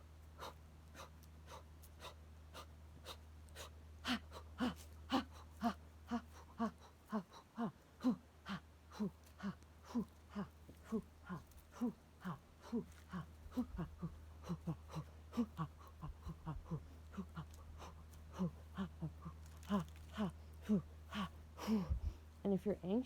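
A person does a deep breathing exercise while standing, with steady, rapid, rhythmic breaths over a low constant hum, many short forceful exhalations close to the microphone.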